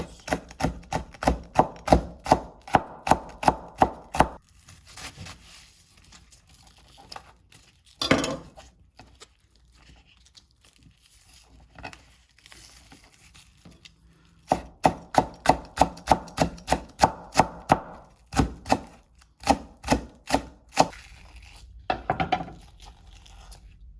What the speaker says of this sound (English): Again, cut into slices.